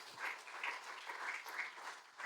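A church congregation claps for the Lord during a sermon, a soft, steady patter of many hands heard from a distance, fairly faint and without voices over it.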